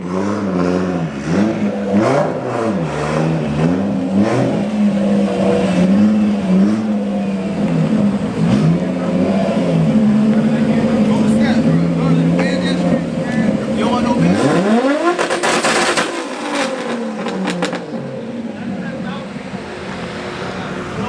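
Cars at a two-step competition hold revving engines against launch control, a loud rough rising-and-falling drone with rapid popping bangs that burst into a sharp crackling volley partway through, with people talking over the noise.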